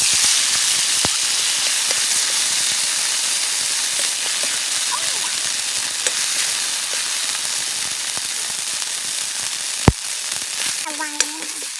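Thai green curry paste hits boiling oil in a pan, giving a loud, continuous, hissing sizzle like heavy rain that runs throughout, with a few sharp clicks and a brief voice near the end.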